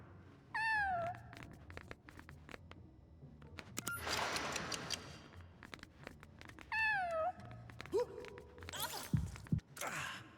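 A cat meows twice in LEGO Batman 4, two clear, drawn-out, rising-and-falling calls separated by ticking clicks and a soft breathy rush, with quiet game sounds around them.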